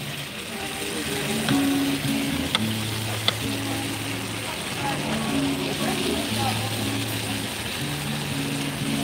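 Salt cod and leeks cook down in a pan with a soft, steady sizzle and occasional light taps of a spoon, while a person talks over it.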